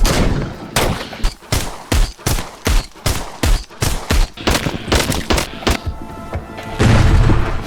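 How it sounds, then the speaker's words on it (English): Rapid gunshots from weapons in the VR zombie shooter Arizona Sunshine ring out loud and close, about a dozen sharp booming reports in an uneven rhythm, ending in a heavier sustained blast. "the weapons in Arizona Sunshine sound great"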